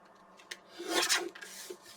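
A paper page for a scrapbook is trimmed with a cutting tool, giving a soft, close scraping rasp that swells to a peak midway and fades again, with a few light clicks around it.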